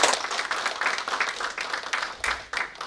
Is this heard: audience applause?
yes